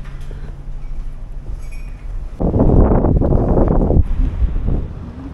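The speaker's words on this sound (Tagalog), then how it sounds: "Sobra ang hangin." Strong wind gusts roar across the microphone in hot weather in Kuwait, building from a low rumble into a loud, heavy blast for a couple of seconds before easing.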